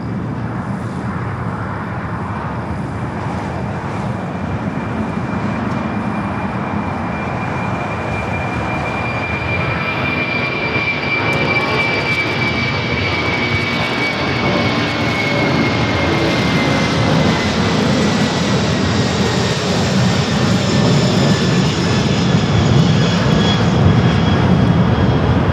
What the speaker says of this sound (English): Coletta Air 998 taking off to Anchorage on the 747-400 converted freighter.